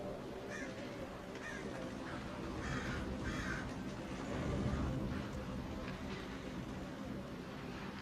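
Birds call repeatedly at a distance, harsh caw-like cries spaced every second or so over a low steady rumble.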